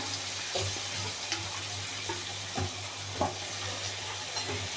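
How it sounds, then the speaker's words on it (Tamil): A utensil stirs pumpkin in a pan with soft scraping and light sizzling, a few clinks of the spoon against the pan over a steady low hum. "நல்லா கிண்டி விட்டுருவோம்."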